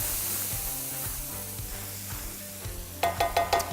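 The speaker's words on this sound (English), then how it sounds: "Onions go in. Start to let those caramelize a bit." Onions and thyme sizzle in a pan for bacon jam, a soft steady frying hiss broken by rhythmic stirring scrapes that become sharper clatters near the end.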